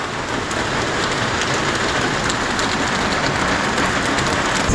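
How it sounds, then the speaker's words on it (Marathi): Heavy rain pours steadily in a dense, continuous broadband hiss with no breaks, loud and close, with no voices over it. "जोर पाऊस आयलो"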